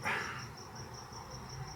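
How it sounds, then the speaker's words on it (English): A cricket chirps steadily outside, its thin high pulses repeating at an even rhythm, faint and distant over a soft background hum. "do you hear the cricket outside?"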